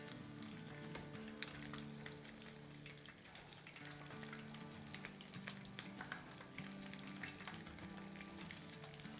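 Macaroni cheese nuggets fry in hot oil, browning, with a continuous bubbling sizzle and sharp spattering pops throughout, fairly quiet and close, no talking.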